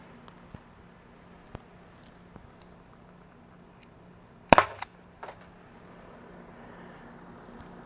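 A Byrna CL launcher fires one sharp, loud pop in a quiet setting, followed by a few fainter ticks and clatter, with nobody speaking.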